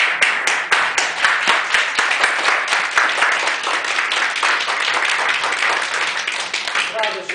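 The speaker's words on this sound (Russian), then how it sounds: "Расправьте плечики и громко хлопаемся" A seminar crowd claps loudly and rhythmically in unison, sharp evenly spaced claps that blur into a thick roar of applause lasting several seconds before trailing off as a voice begins to speak.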